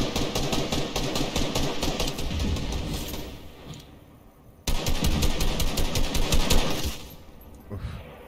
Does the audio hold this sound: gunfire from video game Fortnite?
yes